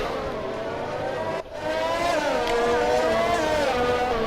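Formula One race car engines in the F1 2020 game at the Russian Grand Prix, a loud continuous high-pitched engine whine with rising and falling pitch as the cars shift and accelerate, a brief dip in the middle.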